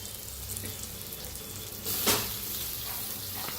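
Bread potato patties sizzle steadily while roasting in a pan, with a constant close frying hiss and one brief louder burst of crackle partway through.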